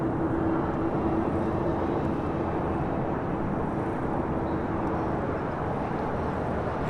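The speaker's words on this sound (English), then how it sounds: "The Japan Dreamliner now making that left-hand turn onto taxiway Bravo" A Boeing 787 Dreamliner taxis at LAX, a distant broad jet-engine rumble and whoosh that stays steady throughout, with no voices.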